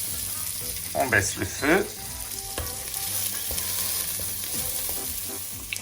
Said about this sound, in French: quand l'huile est bien chaude, je fais revenir les échalotes